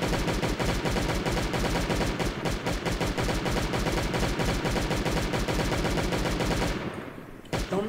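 Automatic turret fire in the survival game Last Day on Earth rattles along in a fast, continuous burst, loud and dense for several seconds before cutting out and leaving a couple of sharp shots at the end.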